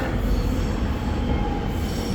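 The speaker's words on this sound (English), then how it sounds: "the direction that the train is going is away from the city" A train rolls past close by near West Richmond station, a loud, steady rumble of wheels on rails with a faint squeal riding on top, and no voices.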